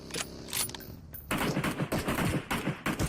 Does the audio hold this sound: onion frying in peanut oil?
no